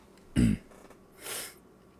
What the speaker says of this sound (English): I'm so sorry about the coughing.